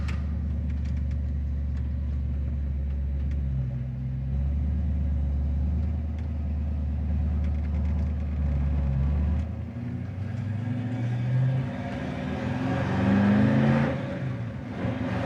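A 1958 Chevrolet Impala V8 with a four-barrel carburetor accelerates hard from inside the car, its low rumble swelling and rising in pitch as the secondaries open, then surging again near the end, with no talking.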